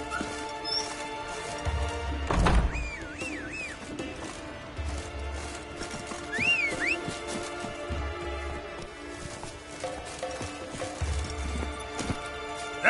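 Hooves of Roach, the horse in the Witcher 3 video game, clip-clop at a walking pace in soft repeated bursts, with a couple of brief whinny-like squeals and faint ambient game sounds behind.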